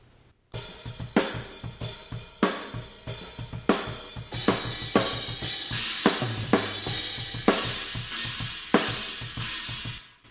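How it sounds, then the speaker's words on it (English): Unprocessed drum kit captured through cheap condenser overhead mics, with kick and snare hits under washy cymbals in a steady groove, raw and fairly loud with no voices. "you can hear the kick drum, you can hear the snare"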